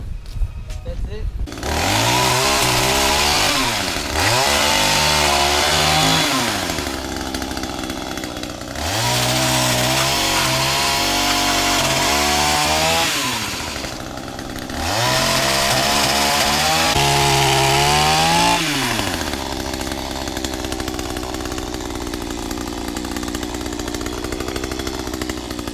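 Loud motor of a power trimmer shaping bushes and a tree, revving up and down in repeated surges with a rising and falling pitch, then settling into a steadier idle, close by.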